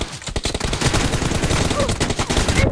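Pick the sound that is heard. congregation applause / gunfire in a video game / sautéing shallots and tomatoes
gunfire in a video game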